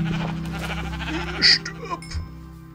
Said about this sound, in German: das andere Schaf, das hat, glaube ich, nur Wolle abgegeben